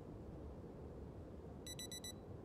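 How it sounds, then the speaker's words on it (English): A video game alarm clock in Project Zomboid rings faintly in short, rapid beeping pulses of four bursts over quiet background hum, with no talking. "I'll set an alarm."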